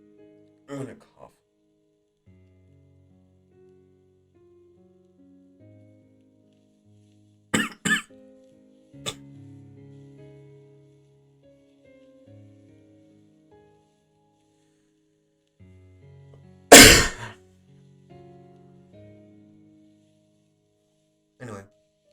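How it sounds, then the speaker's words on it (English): A person coughs several times in sharp, isolated bursts, with one loud cough near the end, separated by long quiet stretches and faint low murmurs. "I'm gonna cough."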